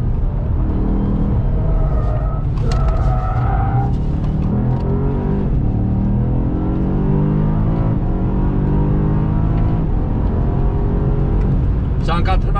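A BMW M5 CS, all-wheel drive with electronic aids switched off, accelerates hard on a track, its loud engine rising and falling through gear changes with tire squeal near the start and end, and people talking inside the car.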